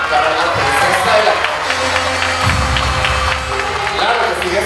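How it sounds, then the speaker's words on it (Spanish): Applause and cheering from a party crowd at a quinceañera celebration, a steady dense wash of clapping lasting several seconds, with a deep thumping music or noise entering partway through. "yo quiero un fuerte aplauso para la princesa de la"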